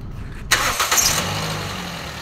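A 2010 Toyota Vios engine cranks and catches after a short silence, then settles into a steady, close idle on a cold engine while coolant in the radiator is being checked.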